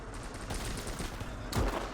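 Gunfire in the war game Gates of Hell, a dense rattle of rapid shots and bursts over a constant battle rumble, with one heavier thump near the end.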